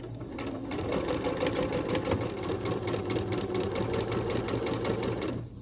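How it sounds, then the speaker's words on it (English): A sewing machine back stitching a seam on a reversible cotton tote bag, running in a steady fast whir of needle strokes, close and continuous with no pauses. "So now I'm ready to sew. I'm going to go ahead and back stitch."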